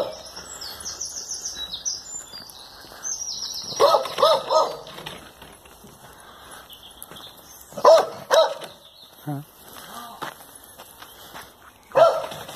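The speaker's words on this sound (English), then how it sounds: "you can hear the dog going mad" A beagle at a brook barks frantically in several loud, close bursts spread across the stretch, with birds chirping in the background between the barks.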